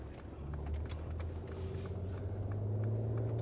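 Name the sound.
Mercedes Benz GLS 450 driving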